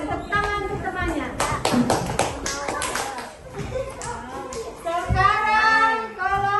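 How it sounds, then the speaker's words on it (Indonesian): Schoolchildren in a classroom clap for a classmate, a quick burst of close, sharp hand claps that fades as young voices chatter and call out over it. "tepuk tangan untuk temannya"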